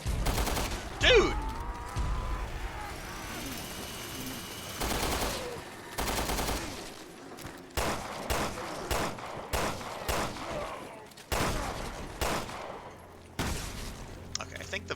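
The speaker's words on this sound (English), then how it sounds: "This is why machine guns were invented." Machine gun fire in Resident Evil: Revelations 2, heard as repeated bursts of rapid automatic shots in short clusters at moderate volume, with game ambience and occasional speech between them.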